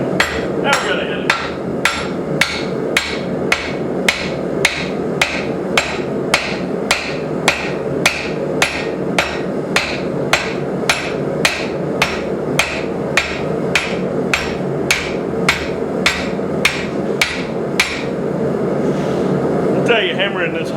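Steady blacksmith hammer blows on hot metal for a chain stand project in a forge shop, about thirty sharp strikes at an even rhythm, close and loud over a faint hum of background noise.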